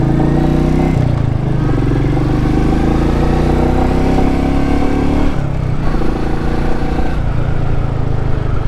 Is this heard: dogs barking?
no